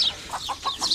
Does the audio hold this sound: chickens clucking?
yes